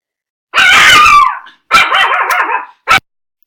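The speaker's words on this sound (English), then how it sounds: "My dog just went crazy." An excited pet dog barking close and loud indoors: a long whining yelp, a wavering howl-like bark, then one short sharp bark, with no talking.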